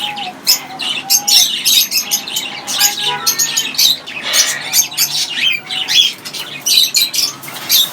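A tame Amazon parrot squawks and chirps in rapid, loud bursts close by, with fluttering wingbeats mixed in and a busy chatter of other birds around it.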